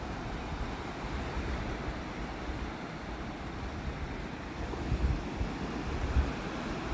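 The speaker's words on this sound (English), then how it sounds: "Let's just take in the sounds of the waves." Continuous low roar of surf washing onto a shore, mixed with wind rumble against the microphone, with no voices.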